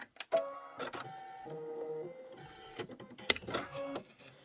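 An embroidery machine stitches a broom design on a pillow in a home sewing room, giving a close, mechanical whirring chatter with rapid needle clicks and short pauses, quiet and with no talking.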